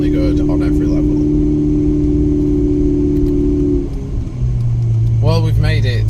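A Ferrari 488 Spider drives along a snowy road, its engine holding a steady, close droning hum that drops lower in pitch partway through, with a brief voice near the end.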